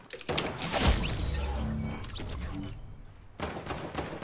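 Gunfire in a video game, a rapid burst of shots and blasts filling the first few seconds, loud and close, then a second burst near the end.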